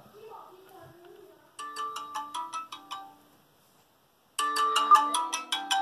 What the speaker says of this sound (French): sonnerie,